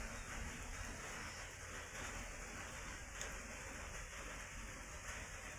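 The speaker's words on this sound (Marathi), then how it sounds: "पावसाचा वेग वाढत आहे" Steady rain falls over a farm field with cucumber vines and jasmine plants, a faint, continuous wash of patter with no voices.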